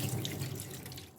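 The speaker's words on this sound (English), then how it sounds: "I have to rinse it out with plenty of water" Water runs steadily from a tap while dried egusi soup ingredients are rinsed under plenty of water, a continuous close splashing wash with no voices.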